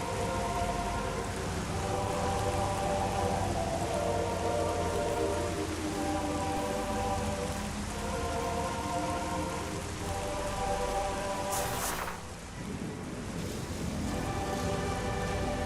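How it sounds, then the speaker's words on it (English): Heavy rain pours steadily in Metroid Prime Remastered, a dense, loud wash of drops on surfaces that holds throughout, with a brief sharper burst near the end and a low tonal game soundscape beneath. "I don't remember the rain looking like this heavy in the original game."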